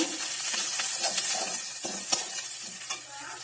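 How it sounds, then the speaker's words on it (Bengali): Cumin and coriander powder with a little chili powder stirred in hot oil in a frying pan, a steady close sizzle broken by soft scraping strokes and one sharp clink of the spoon. "আর 1 চামচ জিরে ও ধনের গুঁড়ো। আর দেখুন দিয়ে একটু নেড়ে নেব।"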